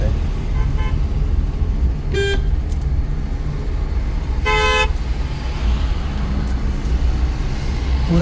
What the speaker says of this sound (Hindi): हॉर्न मार, इसको हॉर्न मार।